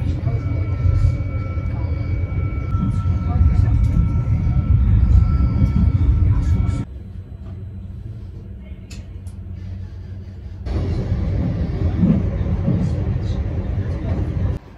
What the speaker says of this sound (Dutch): We zitten nu in de Airnet stoptrein van Qbuz naar Gorkum